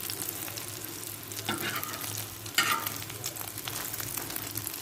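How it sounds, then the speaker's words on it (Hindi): An egg frying in a pan for a burger sizzles softly and steadily, with a few brief louder spatters and scrapes partway through; no one speaks. "ये हमारा अंडा फ्राई हो गया"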